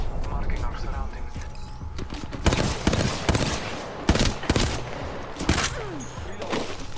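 Bursts of gunfire in an Apex Legends firefight, several sharp volleys and single shots cracking out loud and close over a steady background hum, with voices talking through the fight.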